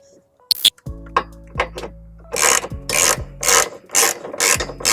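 Ratchet wrench with a 17mm socket snugging trailer hitch bolts on a 1998 Subaru Forester, heard as repeated bursts of rapid clicking strokes, close and fairly loud, alternating with short pauses and some brief voice sounds.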